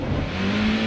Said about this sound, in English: the engine just free revs whenever it loses traction